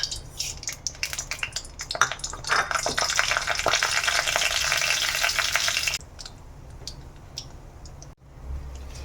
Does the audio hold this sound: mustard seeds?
yes